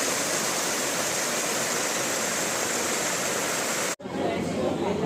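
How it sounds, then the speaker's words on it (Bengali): A steady, loud rush of a waterfall in the monsoon season in Jharkhand fills the whole clip, broken by a brief cut near the end before the roar resumes. "সাধারণ সুন্দর একটা ঝর্ণা দেখতে পেলাম"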